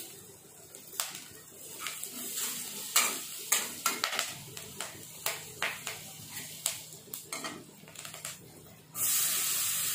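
Green chili fries in butter over low heat for pav bhaji, a soft sizzling hiss broken by a series of sharp spitting crackles and pops, ending in a louder burst of steady hiss.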